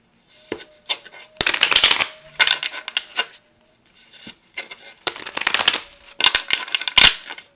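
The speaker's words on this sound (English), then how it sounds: "I'm just going to shuffle here, and we'll get a clarifying card" A deck of tarot cards is shuffled by hand nearby, in repeated crisp riffling and flicking bursts separated by short pauses.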